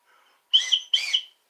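Two quick, breathy whistle bursts, each with a wavering bird-like chirp, close and fairly loud in an otherwise quiet room.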